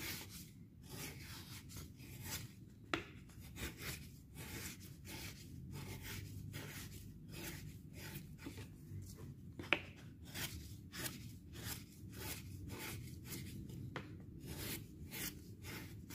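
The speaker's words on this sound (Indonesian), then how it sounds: "Nah, dan caranya seperti ini tuh." A shoe knife skiving the edge of a leather piece in a small home shoe workshop, heard as a quiet, rapid series of rhythmic scraping and rasping strokes, steady and close with a couple of faint ticks.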